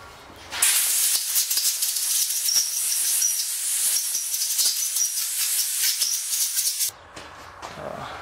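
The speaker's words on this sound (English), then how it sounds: "I'm just using carb cleaner on that as well. And compressed air." A loud, close blast of compressed air hisses steadily over Earthquake auger engine parts for about six seconds, then cuts off abruptly into quiet.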